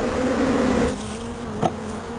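Honeybees buzz near their hive in a close, steady drone that thins out partway through, leaving a fainter hum broken by one brief louder pass.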